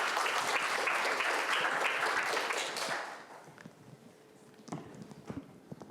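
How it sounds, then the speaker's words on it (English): Applause from a lecture audience at the close of a university talk on research integrity, a dense, loud burst of clapping for about three seconds that fades into scattered claps and room noise. "You can clap now."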